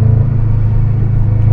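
A stock 2005 Subaru Impreza WRX STI engine holds a steady, close, deep rumble with a low droning hum while the car is driven through turns with the throttle kept on. No one speaks.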